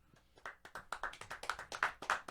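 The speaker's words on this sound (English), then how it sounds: "Let's give ourselves a round of applause." A few people clap their hands in a brief round of applause, a quick run of sharp, close claps that start soft and grow slightly louder, with no talking.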